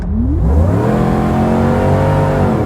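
A supercharged Chevrolet Suburban accelerates hard, its loud engine note climbing steadily in pitch with a whirring edge, close and continuous, with no talk over it.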